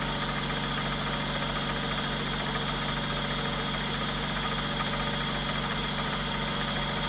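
A David Brown 996 tractor engine idles at about 1200 RPM, giving a steady, loud, close diesel chug with a constant low knocking rhythm and vibration that continues unchanged throughout, with no talk.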